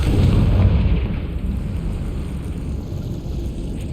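The Confringo spell in the Hogwarts Legacy video game sets off a loud, close explosion: a heavy low rumble that starts strong and slowly fades across four seconds, with no voices.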